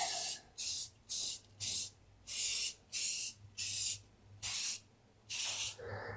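Aerosol primer sprays onto a Jeep TJ body in a series of about ten short, even hissing bursts, each roughly a third of a second long with brief pauses between, close to the can.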